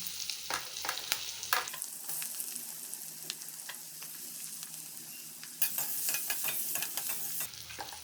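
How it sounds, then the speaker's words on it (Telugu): Chopped onions hit a hot pan alongside baby corn for Manchurian, giving a bright, continuous sizzle and fry with scraping stir strokes, close and loud, with no talking. "అందులోకి మనం కట్ చేసుకున్న ఆనియన్స్ యాడ్ చేసుకోండి."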